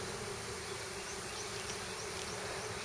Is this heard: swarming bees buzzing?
yes